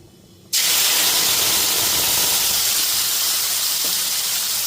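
Ginger, tomato and green chili paste hits hot oil in a pan on a low gas flame for a vegetarian soybean dish, bursting into a loud, steady sizzle that holds strong to the end, with no voices.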